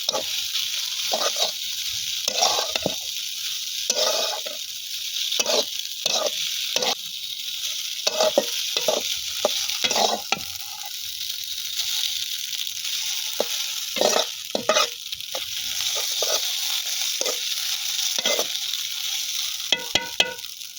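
Egg bhujia frying in a pan in a village kitchen during chowmein cooking: a steady, hissing sizzle continues throughout, broken up by frequent scraping stirs.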